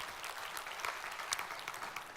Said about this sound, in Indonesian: Berikan dulu tepuk tangan buat Allah kita.